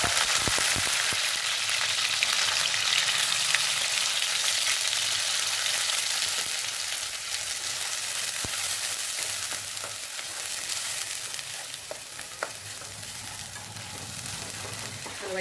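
A coconut and onion paste fries in hot oil for a chicken curry, producing a constant, dense sizzle with faint stirring taps.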